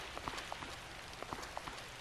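Steady rain patters on a surface in the video game Raw Danger, a dense hiss of droplets with scattered sharper drips, fairly soft and with no voices.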